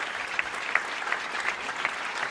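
Spectators at a Tour de France stage finish applaud as stage winners and leader's jersey holders lay down their bouquets, a steady, fairly close crackle of clapping with faint crowd murmur beneath.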